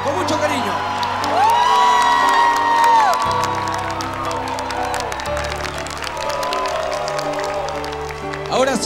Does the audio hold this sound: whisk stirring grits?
no